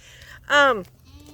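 A single loud, close bleat from a small goat on a farm, lasting about a third of a second against quiet outdoor background.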